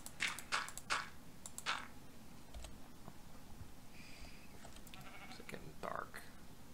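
Sheep bleating in the Minecraft video game, several short bleats early on over quiet game ambience, with soft clicks and small in-game sounds following.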